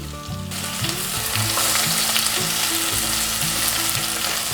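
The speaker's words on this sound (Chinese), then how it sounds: "放入蘑菇，" Taro, tofu and mushrooms stir-fry in a pan with a steady, loud sizzle broken by repeated clatters of stirring, and no one speaks.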